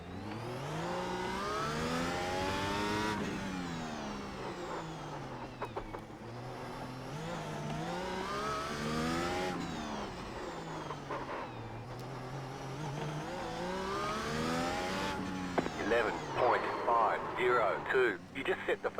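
A Formula 1 car in the iRacing sim runs a fast lap, its engine rising and falling through repeated gear changes, high-pitched and continuous with faint tire noise.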